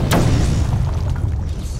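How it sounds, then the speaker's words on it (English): Explosive gel detonating on a Titan container in Batman: Arkham City: one sharp, loud blast at the start, then a rumbling low-end tail that rolls on without talk. "The only way to destroy it is to use explosive gel."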